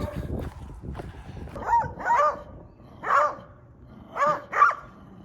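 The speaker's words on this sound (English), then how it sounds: "Everyone has dogs here, I love it." Several dogs bark in short bursts, a pair of barks then single and paired yelps, fairly close, over a low background murmur.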